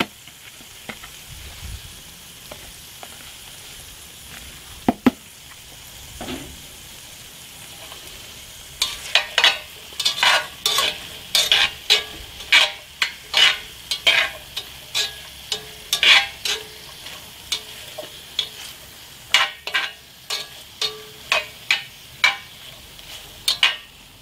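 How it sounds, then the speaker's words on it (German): Beef roulades and soup vegetables sear in a Petromax ft6 cast-iron Dutch oven: after a quiet start comes a steady, crackling sizzle, broken by frequent sharp clicks and scrapes of stirring and turning, close up with no voices. "ich lasse jetzt ein bisschen anbraten und gut ist"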